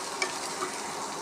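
Coconut, green chilli, ginger and roasted gram sauté in a pan for chutney, giving a brief soft sizzle broken by a couple of light stirring taps.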